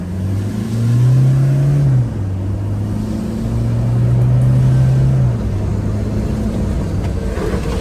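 A Toyota Hilux engine hums steadily, its pitch rising and falling as it gathers speed toward about 70 km/h, with road noise underneath and no talking.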